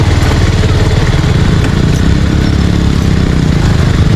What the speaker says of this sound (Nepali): आयो बाइक फेरि यसैबाट